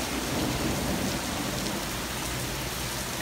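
Dense, steady downpour of heavy rain in a night thunderstorm, with a deep continuous thunder rumble blended into the hiss, loud and unbroken with no talk.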